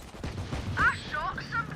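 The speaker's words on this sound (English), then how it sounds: "I shot somebody." Gunfire in the video game Valorant: short bursts of shots over a steady game-sound bed, with a voice speaking over the action.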